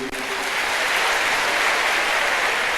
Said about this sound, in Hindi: चाहूंगा कि तालियां और जोर से होनी चाहिए।